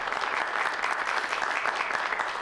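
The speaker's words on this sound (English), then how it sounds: "All right, round of applause, everyone, here for this incredible lineup." An audience at a festival press conference gives a round of applause for the lineup, thick continuous clapping at an even level with no voices on top.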